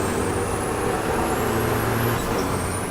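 Formula Truck racing truck in a 2013 racing game, heavy engine drone with a high whining tone over continuous broadband road and brake noise, loud and close for the whole moment.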